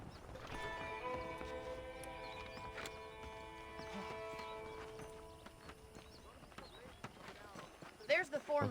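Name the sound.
horse hooves in the video game Red Dead Redemption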